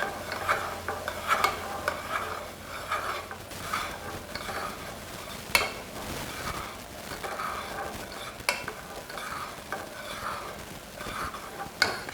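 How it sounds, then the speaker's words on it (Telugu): Sweet bobbatlu filling with added powder thickening in a pan is stirred patiently, giving soft rhythmic scraping and occasional clinks of the spoon against the pan over a faint sizzle. "దగ్గరికి వచ్చి ముద్దలాగా అయ్యే వరకు చాలా ఓపికగా కలుపుతూ"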